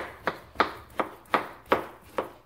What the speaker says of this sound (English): So just slice it up into two